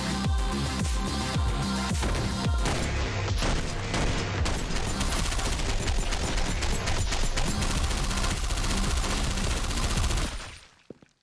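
Rapid, dense video game gunfire from OTXO, with overlapping loud shots and booms crowding together for about ten seconds before cutting off abruptly, with no talking.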